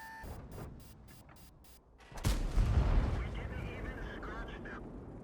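Tank cannon fire in a video game: one sharp booming shot with a heavy low rumble that rolls on for a couple of seconds, fairly faint, while a voice talks over it.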